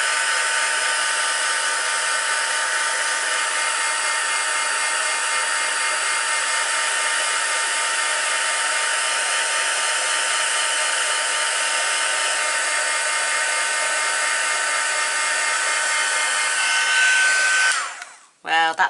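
A heat tool drying a stamped paper card blows a steady, loud, even whir for most of the stretch, then cuts off abruptly near the end with a brief restart.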